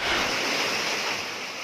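Floodwater of the Pinilla River in Rizal rushing hard enough to topple houses: a loud, steady roar of churning water with no break or voice over it.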